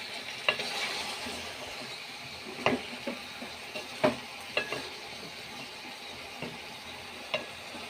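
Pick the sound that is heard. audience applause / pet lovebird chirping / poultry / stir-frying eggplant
stir-frying eggplant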